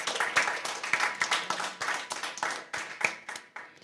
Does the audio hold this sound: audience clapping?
yes